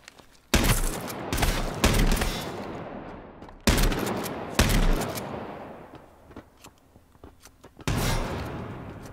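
Bursts of rapid gunfire in the video game H1Z1 crack out in several loud volleys, separated by short pauses with lingering echoes and quieter background noise.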